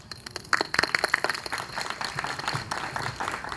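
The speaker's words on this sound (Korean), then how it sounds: "질문 자체가 큰 박수를 받고 있네요" Audience applause at a political talk concert, a burst of many hands clapping that swells quickly and holds steady, dense and moderately loud throughout the hall.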